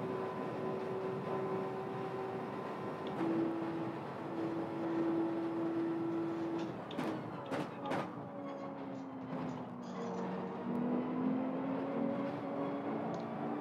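A Porsche engine in Gran Turismo 7 drones steadily at a moderate distance, its pitch holding then stepping through gear changes, with faint clicks and a shifting tone as the car drives on.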